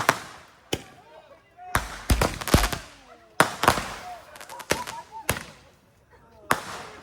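A defective firework goes off in the rain during a Fourth of July celebration, giving a ragged series of loud, sharp bangs and crackles at uneven intervals, with people shouting and talking between the blasts.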